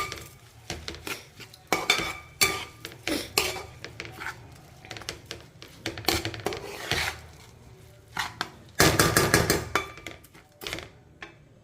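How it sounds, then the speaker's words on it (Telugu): A metal spoon stirs and scrapes through tomato masala rice frying in a pan, with irregular clinks and scrapes of varying loudness, busy and close, with no talking. "ఒక 2 minutes వేపుకుందామండి"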